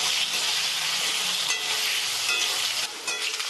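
Cubed potatoes frying in oil in a pan with salt and turmeric, giving a steady, close hiss and sizzle with occasional light clinks of a spatula stirring.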